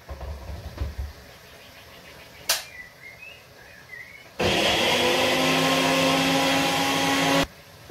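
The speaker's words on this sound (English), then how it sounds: "And I'm gonna put this in my blender now." A kitchen blender whirs loudly and steadily as it purees kiwi into a smoothie, starting abruptly midway after quiet handling noises and cutting off just as suddenly about three seconds later.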